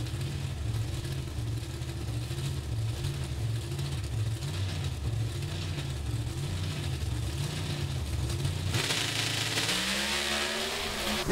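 NHRA drag racing cars in a season-final round roar down the strip in a loud sustained engine blare with a steady pulsing low rumble, shifting abruptly near the end to a rising, sweeping whine as they pass.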